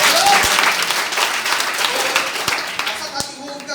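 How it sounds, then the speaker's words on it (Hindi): A crowd breaks into loud, sustained clapping, a dense close patter of many hands that stays strong throughout with slight swells, with no voices clearly heard over it. "उनके लिए जोरदार से तालियां बजना चाहिए।"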